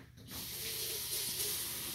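A kitchen tap turns on and runs steadily while hands are washed, a close broadband hiss of flowing water starting abruptly and continuing evenly to the end.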